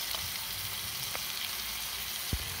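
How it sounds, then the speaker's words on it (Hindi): Onion and tomato frying in a pan with salt, coriander, chili and garam masala for masala Maggi noodles, a steady close sizzle with a few faint stirring scrapes and one brief louder clatter near the end. "प्याज भुन चुकी है, अब हम इसमें टमाटर ऐड करेंगे"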